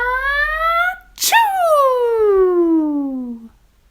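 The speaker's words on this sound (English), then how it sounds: "A sneeze from Little Mouse blew all the bugs away." A voice acts out a cartoonish sneeze for a children's story about a little mouse: a rising, drawn-out 'ah' breaks into a sharp burst, then a long tone that slides downward and fades.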